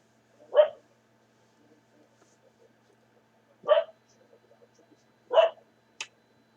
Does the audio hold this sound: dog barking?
yes